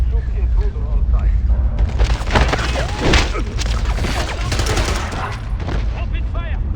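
Rapid gunfire from multiple weapons in James Bond 007: Blood Stone, dense bursts of machine-gun shots and cracks, loud and continuous, with shouted voices mixed into the battle.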